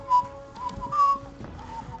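A character in the League of Legends video game whistles a light, wavering melody, two brighter rising phrases standing out over a steady musical bed, with no talking.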